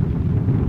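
Strong wind from Hurricane Joaquin buffets the microphone at Fire Island, a continuous loud low roar with no pauses.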